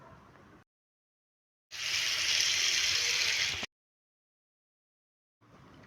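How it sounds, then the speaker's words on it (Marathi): Vegetables for pav bhaji, including potatoes, cauliflower, carrots, beetroot and capsicum, being rinsed under running clean water, a steady two-second rush of water between stretches of silence. "सर्व भाज्या स्वच्छ पाण्याने धुवून घ्या."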